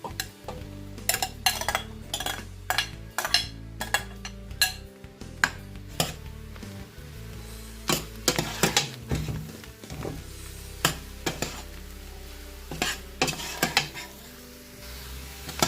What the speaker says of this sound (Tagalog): And then we will now put the sliced mushrooms.